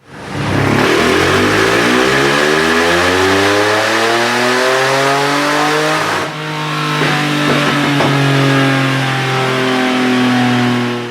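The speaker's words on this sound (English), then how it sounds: "here's one more look at the final power pull, which is the climax of any Dyno day" A car engine revs hard through a final dyno power pull, the pitch sweeping steadily upward, dropping briefly at a gear change, then climbing again, loud and continuous with no talking.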